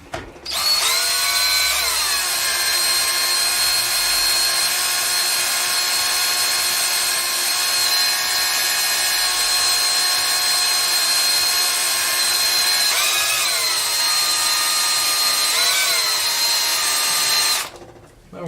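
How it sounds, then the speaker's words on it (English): A drill bit boring into metal at low RPM gives off a loud, steady motor whine for about seventeen seconds, with small dips in pitch as the bit bites, then spins down and stops. "you're drilling into metal, you don't want to go too fast"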